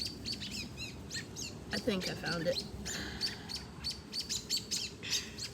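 An injured bird that fell from a tree chirps in a rapid series of high, close tweets, with people speaking briefly in the middle.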